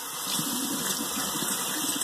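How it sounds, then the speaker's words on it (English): Running tap water rinses a safety razor from a traditional shaving starter kit, a steady broadband gush of water splashing close by for about two seconds with no voices. "So let me rinse that off."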